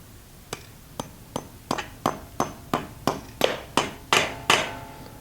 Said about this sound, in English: Then you hammer the wedge anchor down into the hole.